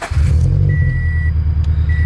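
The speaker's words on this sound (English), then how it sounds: "get the car started here." A Subaru BRZ engine turns over and catches, settling into a deep, steady idling exhaust rumble up close, with a faint high beep sounding briefly.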